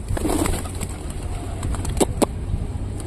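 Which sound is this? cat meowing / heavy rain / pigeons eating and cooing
pigeons eating and cooing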